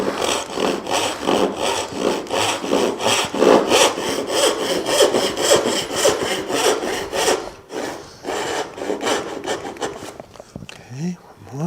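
A dovetail saw cuts through wood in quick, steady back-and-forth strokes, close and rhythmic, then stops near the end with a brief scrape.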